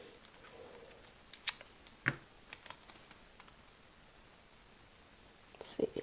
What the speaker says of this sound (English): let's add a little bit more washi tape over here